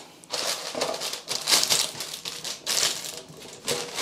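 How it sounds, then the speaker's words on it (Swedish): Stiff baking paper crinkles and crackles as it is clamped into the base of a springform cake tin, a run of close, loud rustling bursts with short pauses between them, no voices. "det jag börjar med är att knäppa fast ett bakplåtspapper i botten på formen"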